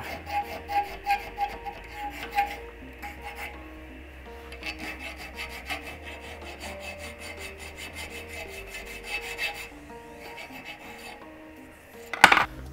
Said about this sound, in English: and then a little bit of used emery cloth. And I want to take off, just take off the burr.